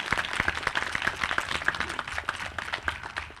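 A town meeting audience gives a short round of applause at a moderate distance. The claps are scattered and fairly light and continue steadily for a few seconds.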